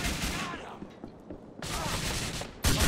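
Bursts of automatic gunfire in GTA IV come as dense, loud volleys, each several rapid shots, with a quieter gap between them and a final harsh burst at the end.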